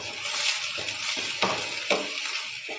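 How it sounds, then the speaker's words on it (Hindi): Chicken being stirred in a pan with tandoori masala and chili sauce, a spoon scraping and clinking against the metal over a continuous sizzle, close and fairly loud, with a few sharper knocks. "इन सब चीज़ों को अच्छे से हिलाएंगे।"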